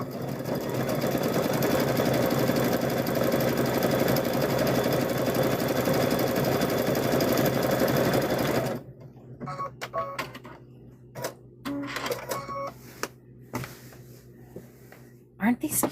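A sewing machine stitches a patchwork gnome quilt in a steady, close run of rapid mechanical clatter for about eight seconds, then stops. Someone talks amid light handling noises.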